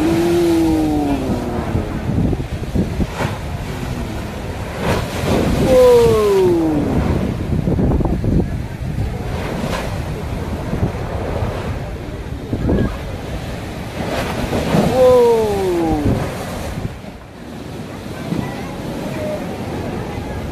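Big waves break at Galesong beach in a continuous roaring surf, with gusts of wind buffeting the microphone and faint voices now and then.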